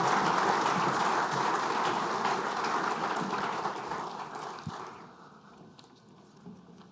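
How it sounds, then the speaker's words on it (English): Conference audience at the World Circular Economy Forum closing session gives a sustained round of applause, loud and dense at first, then thinning and fading out over the last couple of seconds. "Ladies and gentlemen, a huge round of applause, please, for Shalini, Michelle,"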